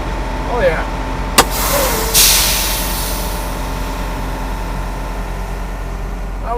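A truck's diesel engine rumbles steadily at close range while the trailer is backed to a loading dock, with two short hissing bursts, like air brakes, about a second apart early on.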